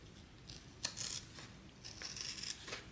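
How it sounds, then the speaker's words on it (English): Scissors snip and trim a stretched fabric card slot on a sewn sling bag, several quiet crisp cuts in a row at close range, with no voices. "I'm just gonna trim it down."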